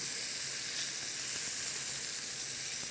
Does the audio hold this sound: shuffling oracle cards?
no